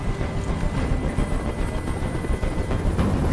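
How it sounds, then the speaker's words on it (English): A helicopter hovers in the video game Detroit: Become Human, giving a steady, dense rotor and engine rumble. It stays loud and continuous throughout, with no voices over it. "I can't stand that noise anymore. Tell that helicopter to get out of here!"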